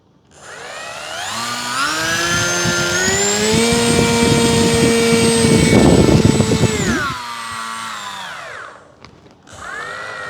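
The electric motor and propeller of a 600mm J3 Cub Firebird RC model airplane spin up into a rising whine, hold at a loud buzzing pitch, then wind down and cut off, followed by a brief burst near the end.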